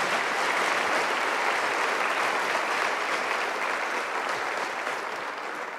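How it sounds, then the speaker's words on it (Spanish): A church congregation applauds steadily and loudly, a dense continuous wash of clapping from many hands that holds for several seconds alone, with no talking. "¿Cuánto le dan un aplauso al Señor por la casa que Él nos ha dado?"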